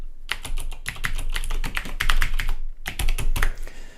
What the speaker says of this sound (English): Go ahead and type in my CUCC address.